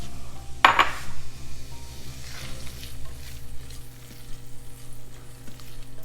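Finely chopped white onion hits melted butter in a pan with a bright sizzle and a clink of utensil, then keeps frying and being stirred under a steady low hum, with no one talking.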